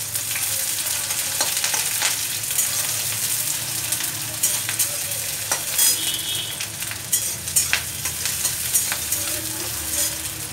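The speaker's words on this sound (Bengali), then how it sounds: "নাড়াতে নাড়াতে এই চিংড়ি মাছগুলো দিয়ে দিচ্ছি একসাথে, তাহলে ভাজা হয়ে যাবে।" Green chillies and prawns being stirred as they fry in a pan, with a steady sizzle and spatula scraping, close and fairly loud, with no talk over it.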